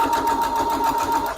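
Sewing machine stitching along a marked line for foundation paper piecing, a short steady whir with a faint tonal hum, close and alone.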